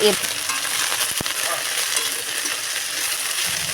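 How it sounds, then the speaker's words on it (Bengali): Chopped kharkol leaves fry in mustard oil in a wok with a loud, steady hiss and crackle, plus a sharp scrape or clack near the start. "ওই কড়াইতেই দিয়ে দিলাম সর্ষের তেল আর কেটে ধুয়ে রাখা পাতাগুলো"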